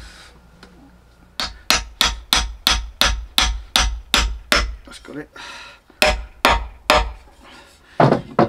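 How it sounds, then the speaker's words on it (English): A soft mallet drives a plastic Lagun table leg into its top piece in a van conversion, a fast run of a dozen close, sharp knocks, then a brief pause and a few more blows, with a short spoken remark. "getting a soft mallet and banging it through into this top piece"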